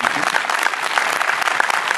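A crowd applauds at a French film premiere of Les Francis: dense, continuous clapping that stays loud and even throughout, with no talk on top.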